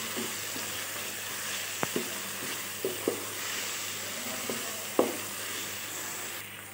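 Spices being fried and mixed into sautéed tomatoes for daal mash, a quiet, even sizzle with a handful of sparse spoon taps and scrapes against the pan.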